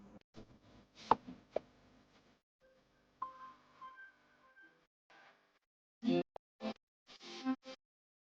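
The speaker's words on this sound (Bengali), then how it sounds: "আম দুটো খোসা ছাড়িয়ে ছোট ছোট টুকরো করে কেটে নিতে হবে।" Ripe peeled mango being cut into small pieces with a knife, a few sparse, soft cutting taps scattered through an otherwise quiet stretch.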